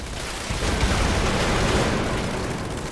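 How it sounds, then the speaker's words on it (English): Explosions in the video game Fallout 76 produce a loud, continuous roar of overlapping blasts and rumbling that does not let up. "The explosions are pretty loud."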